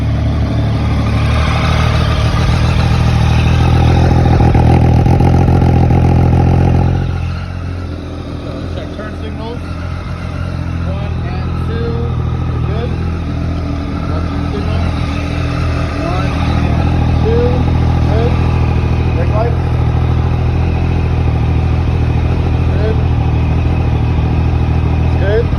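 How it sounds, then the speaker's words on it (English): A 2016 Triumph Daytona 675R motorcycle engine idles after a cold start, a loud steady mechanical drone with a slightly higher, rougher idle in the first seconds that then settles lower. "Triumph Daytona 675. This is a cold start."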